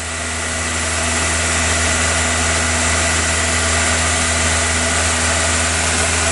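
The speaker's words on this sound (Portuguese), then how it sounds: "o motor está em giro alto" A VW Golf Mk3 engine held at a high idle of about 2,500 rpm gives a steady, loud, close drone with a constant hum and a broad rushing tone. It runs unbroken for the whole stretch.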